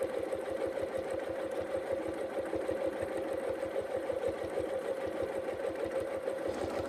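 A sewing machine stitches free motion quilting in a paisley pattern, its needle running at a steady, rapid, continuous drone that stays close and even throughout.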